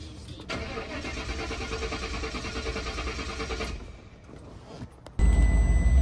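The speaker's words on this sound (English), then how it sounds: "So again, this is a crank no start." Engine of a 2003 Mercury Grand Marquis with a crank-no-start fault, cranking in a continuous rhythmic churn for several seconds without catching, a short lull, then a louder, rougher burst at the end.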